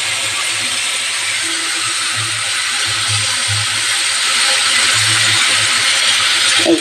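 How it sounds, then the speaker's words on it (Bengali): Eggplant and potato frying in hot oil with cumin and black cumin seeds, a loud steady sizzle and hiss that swells slightly toward the end, with low intermittent thumps beneath it and no speech. "তারপরে বেগুন আলু দিয়ে দেবো।"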